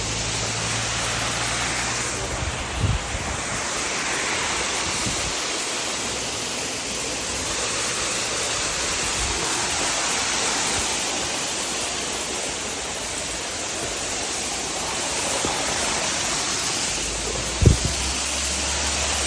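A fresh mountain stream on Doi Pui rushes steadily and loud, a constant broadband wash with brief knocks and thumps.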